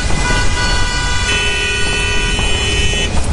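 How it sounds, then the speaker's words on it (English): Busy road traffic rumbles continuously at close range, with a sustained car horn blaring through the middle and a shorter honk near the end, and no voices. "The traffic?"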